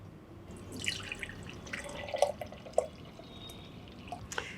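Neem leaf juice being filtered, with scattered drips and small splashes of liquid falling into a container, faint and close, irregularly spaced over a quiet background.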